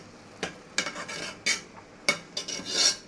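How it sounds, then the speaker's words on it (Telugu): Prawn biryani rice being stirred in a pot, with a string of rasping scrapes and rubbing strokes, fairly close and irregularly spaced, and no talking. "ఇప్పుడు ఒకసారి కలుపుతున్నాను ఫ్రెండ్స్, మిక్స్ చేస్తున్నాను"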